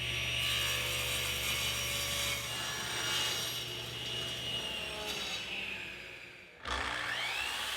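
A table saw rips white oak boards for a dining table cross brace, giving a steady, loud mechanical whine and rasping cut that runs nearly the whole time before stopping abruptly, followed by a brief spin-down.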